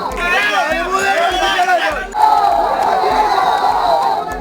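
A dense crowd of spectators at a dice game cheers and shouts continuously, loud and close, with voices rising in excited surges and a brief dip midway before the roar resumes.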